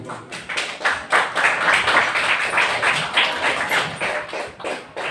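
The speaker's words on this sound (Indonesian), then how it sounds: "Boleh tepuk tangan semuanya." A school audience claps together for about five seconds at a graduation announcement for ninth-grade students at an Islamic junior high school, steady and dense throughout with no voices over it.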